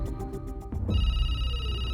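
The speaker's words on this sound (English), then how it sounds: "The phone call from Richard Curtis may be the key to unlocking the mystery behind the Phoenix lights" A telephone rings with a quick series of pulsed electronic chirps, then settles into a steady, sustained tone. It is fairly loud and close, and no voices are heard.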